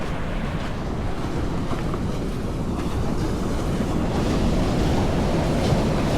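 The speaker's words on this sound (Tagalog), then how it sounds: "Malakas na talaga ang alon." Loud, continuous roar of heavy surf, with waves crashing steadily and building slightly toward the end, no voices.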